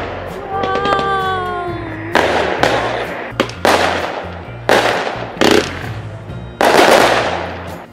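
Fireworks and firecrackers burst on a Halloween night in Vancouver, a series of loud sharp bangs and crackling rattles spaced irregularly over several seconds, with a faint whistling rise near the start.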